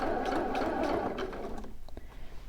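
A sewing machine stitches down a seam on shorts or pants, a fast close mechanical whirr lasting about a second and a half before slowing into a few separate clicks.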